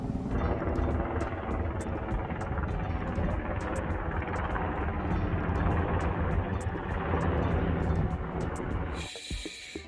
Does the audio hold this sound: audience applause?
no